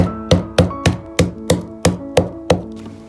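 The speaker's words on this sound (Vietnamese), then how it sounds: "Bây giờ mình dùng dao cắt đôi phần gốc ra để đập dập củ sả được dễ hơn" A knife strikes lemongrass stalks on a cutting board, eight or nine sharp, evenly spaced chops and crushing blows at roughly three per second, close and clear with no voices.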